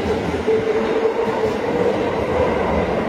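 A Tokyo metro train arrives at Oshiage station, a loud, steady rumble with a sustained whining tone from the running gear, continuous and close, with no talking.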